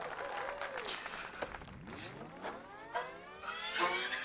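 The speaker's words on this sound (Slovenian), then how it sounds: "To še publika prihaja." A concert audience arrives at a live show, with a crowd murmuring and shuffling and scattered claps, while a few whistle-like gliding tones rise and fall over the chatter.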